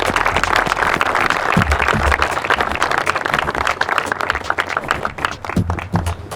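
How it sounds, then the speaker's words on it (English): Sustained applause from an audience hailing a tournament champion, a dense, steady wash of many hands clapping at close range with a few louder nearby claps, no talk over it. "Everybody, round of applause."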